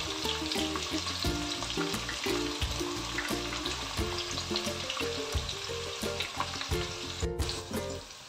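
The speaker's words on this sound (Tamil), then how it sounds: "வெங்காயமும் பச்சை மிளகாய் எல்லாம் போட்டு இப்போ நான் கிளறிட்டேன்" Onions and green chilies sizzle and fry in a pan while being stirred, a steady loud crackle broken by regular scraping strokes, with a tonal hum of music underneath throughout.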